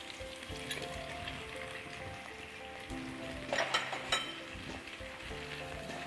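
Ketchup and chili sauce mixture being stirred in a frying pan for ayam masak merah, a soft steady sizzle with scraping stir strokes and a couple of brief louder clatters, no talking.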